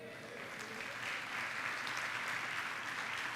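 A church congregation applauds during a family worship service, a steady wash of clapping from many hands that swells slightly and holds evenly, moderately distant and without talk.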